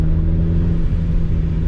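A turbocharged Mazda MX5 creeps into boost, its loud, steady low exhaust rumble holding close with a faint whir above it and no voices.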